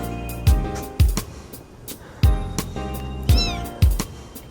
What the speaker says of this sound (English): Looks like a little boy kitten.